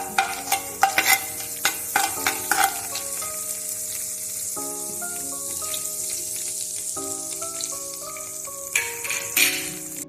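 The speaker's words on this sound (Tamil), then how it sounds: "மசாலா பட்டை கல்பாசி இதெல்லாம் போட்டுக்கலாம் ஃப்ரெண்ட்ஸ்." Whole cinnamon and kalpasi spices sizzle and crackle in a hot clay pot while a spoon clinks and stirs, with a steady sizzle throughout and soft background music playing.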